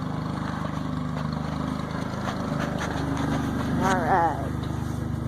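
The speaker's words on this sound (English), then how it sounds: "let's get on the gator. It's getting warmed up." A John Deere Gator utility vehicle engine idles steadily while warming up on a cattle farm, a constant mid-level drone with a brief rise near the end, and someone speaks briefly over it.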